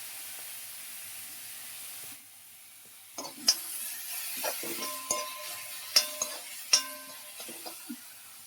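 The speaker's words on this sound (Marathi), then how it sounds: "त्याला पण व्यवस्थित थोडंसं तेल म्हणजे भाजून घेऊया." Onion-tomato masala with peanut powder roasts in oil while a spoon stirs it, with a soft sizzle and several sharp, irregular scraping knocks of the utensil against the pan after a quiet start.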